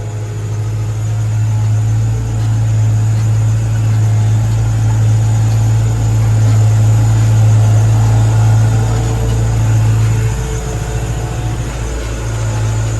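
A tractor engine idles steadily nearby, a loud, even low rumble with a constant droning tone throughout.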